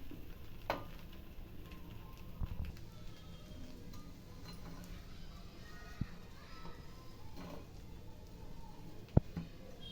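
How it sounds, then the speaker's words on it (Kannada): Two pieces of bread roast in a pan over a low flame, giving off a soft, faint sizzle with occasional light clinks and faint voices in the background. "ಬ್ರೆಡ್ ಪೀಸ್ ಎರಡು ರೋಸ್ಟ್ ಮಾಡೋಕೆ ಹಾಕ್ತಾಯಿದ್ದೀನಿ ಸಿಮ್ಮಲ್ಲಿ ರೋಸ್ಟ್ ಮಾಡ್ಕೊಬೇಕು"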